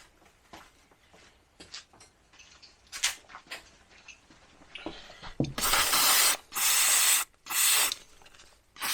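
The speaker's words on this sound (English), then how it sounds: "I think we're going to get some sort of spray." Several loud hissing bursts of an aerosol spray cleaning brake parts on a 1967 Jaguar Mark 2 in quick succession, preceded by quiet clicks and handling noises of work on parts.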